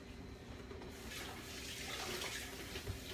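Water runs from a kitchen tap into a can for spaghetti sauce, a steady, fairly soft rushing stream heard without any talking.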